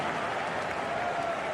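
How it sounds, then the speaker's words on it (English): A stadium crowd whistles and roars at the end of a Leganés versus Sevilla football match, a dense, steady wash of noise with a thin sustained whistle tone running through it. "Whistles from the crowd and the whistle from the referee"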